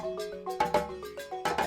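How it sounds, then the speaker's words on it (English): A West African balafon, the wooden tuned percussion of Mali and Burkina Faso, plays quick melodic wooden notes over a driving drum pattern, bright and rhythmic, close and clear. "The balafon is a tuned percussion instrument that's common in Mali and Burkina Faso,"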